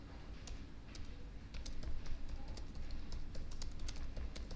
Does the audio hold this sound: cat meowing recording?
no